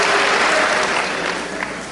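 A church congregation claps together in a brief, loud burst of dense applause that fades slightly toward the end.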